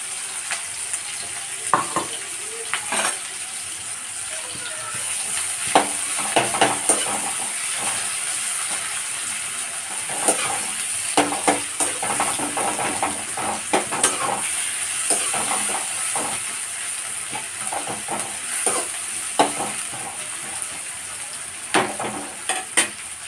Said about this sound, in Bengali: আমার এখানে লাল লাল করে বেরেস্তা ভাজা হয়ে গেছে।